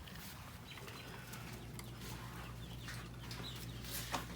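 Chickens clucking on a homestead around freshly hatched birds in rough-cut wooden brooders, a steady low murmur of soft clucks with a few sharper calls over a constant background hum.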